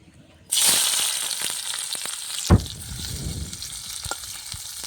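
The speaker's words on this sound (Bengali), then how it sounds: "এবার আমার তেলটা গরম হয়ে গেছে এবার আমি এর মধ্যে পেঁয়াজ কুচি দিয়ে দেব" Chopped onions hit hot oil with a sudden loud sizzle that keeps a steady bright crackle, broken by a stir or clunk partway through, no talking.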